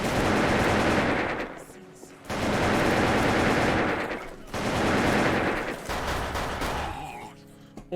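Sustained automatic gunfire in the online shooter Wolfteam comes in three long, loud bursts separated by short pauses, with a voice talking briefly in between.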